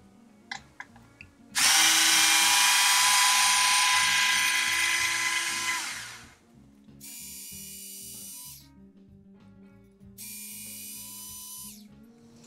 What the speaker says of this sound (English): you might want to use a power screwdriver, which I happen to have here